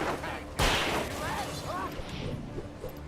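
A single loud gunshot from the Alan Wake video game cracks out close and sharp, then fades into a rumbling tail with faint game noise and voices underneath.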